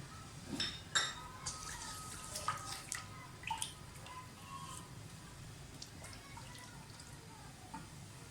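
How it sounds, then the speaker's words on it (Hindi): Whole spices tipped into hot ghee in a cooking pot for vegetable biryani, with a few soft clinks near the start followed by a faint, steady sizzle that continues alone at low volume. "तो सबसे पहले इसमें साबुत मसाले डाल दें"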